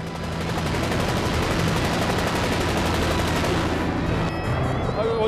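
Loud, continuous gunfire from an AH-1 Cobra attack helicopter during army live-fire training, a dense sustained roar of rapid shots that thins near the end, with the helicopter's drone underneath.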